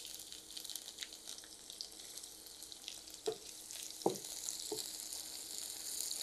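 Onion and small garlic cloves frying in oil for a masoor dal chorchori, a soft, steady sizzle with a few light clinks of a spoon against the pan, faint and close, no talk.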